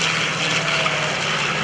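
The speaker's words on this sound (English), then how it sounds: "as the airplane Panchito makes its turn back to show center" The radial engines of a B-25 Mitchell bomber roar loud and steady as it flies past and turns back toward show center at an air show.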